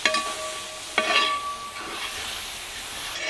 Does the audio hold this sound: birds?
no